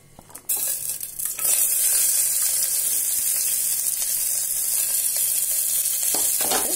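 Large onions sautéing in hot oil with fennel seeds in a pressure cooker make a loud, steady sizzle. It starts quiet, jumps up around the half-second mark with a clatter, then holds a dense frying hiss with no talk.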